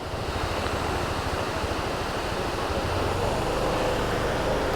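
A small roadside waterfall on a hilly route just past Sakleshpur, its water rushing in a steady, broadband wash that stays close and constant throughout, with a low rumble of wind or passing traffic underneath.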